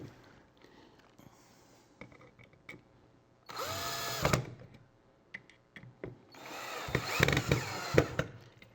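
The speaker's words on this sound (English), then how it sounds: "Electric drill does make it easy." Electric drill driving screws into scrap wood while a grow light is built, two loud whirring bursts with a short pause between, surrounded by quieter clicks and handling knocks.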